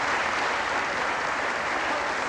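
Audience applause after a diplomatic speech at a 1985 news event, a dense, steady wash of clapping that holds at an even level throughout.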